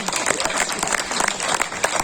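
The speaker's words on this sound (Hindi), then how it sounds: "ताली बजाइए" An audience at a comedy poetry recital at the Magh Mela in Prayagraj claps loudly and steadily in a dense, sustained round of applause.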